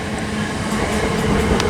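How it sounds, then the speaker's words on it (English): A Govia Thameslink Railway Class 387 electric train pulls into Biggleswade station on the East Coast Main Line, a loud, close, continuous rumble of wheels and motors with faint clicks and squeals toward the end. "arriving now is the 1300 Govia Thameslink Railway service to Peterborough, 387-126"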